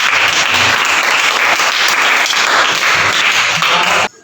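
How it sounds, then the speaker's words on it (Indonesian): Sustained applause from a classroom of students after a group presentation, dense steady clapping filling the room for about four seconds before cutting off abruptly. "Tepuk tangan."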